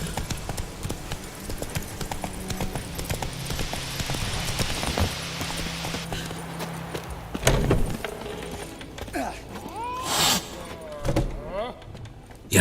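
Horse hooves clip-clop in a steady rhythm in the Witcher 3 video game, moderately close, alongside jangling tack, with a voice speaking briefly over the hoofbeats.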